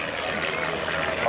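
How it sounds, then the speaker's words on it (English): A propeller aerobatic airplane performs at a San Diego airshow in 1988, its engine droning loudly and steadily overhead while an announcer talks over it. "the airplane goes up at a 45-degree climb, half roll, performed about here."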